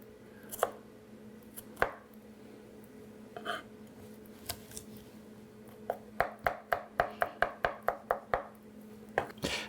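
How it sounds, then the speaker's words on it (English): Garlic is chopped with a knife on a board, starting with a few scattered cuts and then a quick run of crisp, rhythmic knocks, close and fairly quiet, with no voices. "Easiest way of the garlic is just to chop it a little bit"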